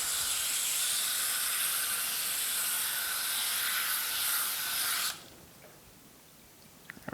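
Water runs into a jar to rinse wheatgrass seeds, a steady bright hissing spray heard up close for about five seconds before it cuts off, leaving quiet room tone and a few faint clinks.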